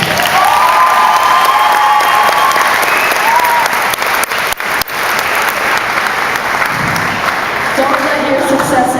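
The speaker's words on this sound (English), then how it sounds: "So give yourselves a round of applause." Graduates at a graduation ceremony applauding and cheering, loud continuous clapping with whoops and shouted voices rising over it, a big crowd close by.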